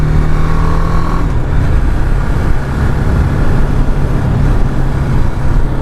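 A BMW G310R motorcycle engine roars steadily and climbs in pitch as it accelerates, with a continuous droning rumble throughout and no voices.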